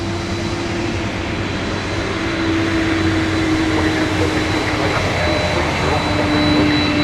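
A jet airliner rolls for takeoff on runway 17 at MSP airport in winter, its steady engine roar close and loud throughout, with a sustained whine over the low rumble.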